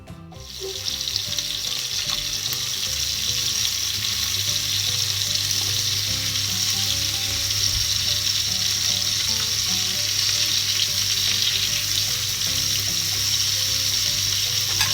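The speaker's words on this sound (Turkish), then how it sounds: "Buzuyla attığım için tavaya ısınmadan atıyorum ben bunları şimdi." Steady, loud sizzling of chicken frying in a pan, added frozen to an unheated pan, a dense crackling hiss that starts abruptly and continues without a break.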